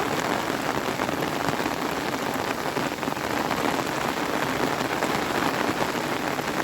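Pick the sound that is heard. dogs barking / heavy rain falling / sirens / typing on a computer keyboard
heavy rain falling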